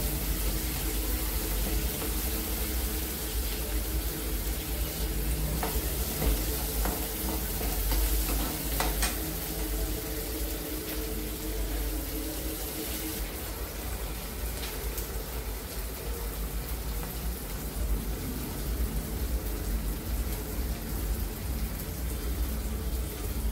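Onion sautéing in a pan for a Marathi kurma puri, a dense, steady, close crackling sizzle with occasional clinks and scrapes of a stirring spoon throughout.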